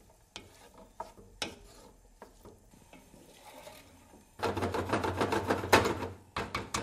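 A spoon stirs currants into a pan of cooking fruit for summer pudding, giving soft scraping and wet clicks that grow louder and busier toward the end, with no talking.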